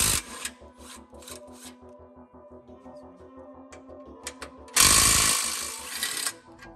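Ratchet on a 13mm socket backing out bolts, a rapid, even run of close clicks that stops and restarts, broken by a brief louder burst of rough scraping near the end.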